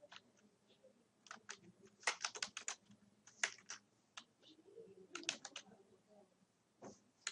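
Bursts of clicky computer keyboard typing, close and fairly quiet, with irregular rapid keystrokes in clusters separated by short pauses.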